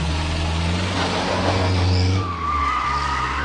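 A car brakes to a stop during a driving exam, with a loud tire skid and engine hum that rises, then a brief dip as the car halts, with no voices.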